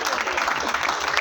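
An audience at a training session claps in a short, dense burst, fairly loud and close, lasting just over a second.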